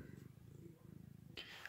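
A cat purring up close on a desk, a steady low rhythmic rumble pulsing throughout, with a brief rustle or movement near the end.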